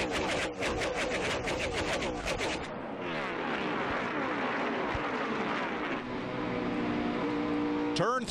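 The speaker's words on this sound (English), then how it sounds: "we crank it up on the restart at lap 92" NASCAR stock cars roar through a race restart, loud engines rising and falling as cars pass close by, with another engine note sweeping in at the end.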